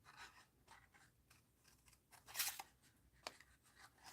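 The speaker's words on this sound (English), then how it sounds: "I'll cut her hand out here with these big scissors." A few crisp snips of large scissors cutting paper, quiet and close, with soft rustling between the cuts.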